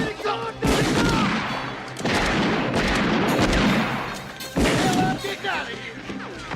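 Western film gunfire rings out as repeated, loud, chaotic volleys of shots and crashes, separated by short gaps. Shouting voices mix in among the shots.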